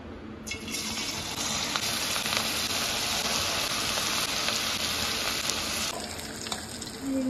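Pieces of chushi dough fry in hot oil with a loud, dense, continuous sizzle, heard close up and unbroken for several seconds with no talking.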